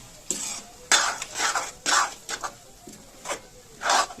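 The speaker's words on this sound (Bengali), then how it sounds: "নারকেলটা এতে দিয়ে দেবো দিয়ে সমানে আমি এটাকে নাড়তে থাকবো" Spoon scraping and stirring grated coconut in a pan, a series of irregular close strokes about every half second, each a short gritty scrape over a faint background.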